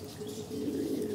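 Pigeons by their cage coo in a low, soft throbbing burble, close and continuous for about a second against quiet background.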